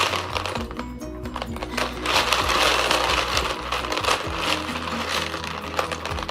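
Homemade crunchy slime made with toothpaste is worked by hand, giving close, dense crackling pops and sticky clicks that repeat continuously without talk.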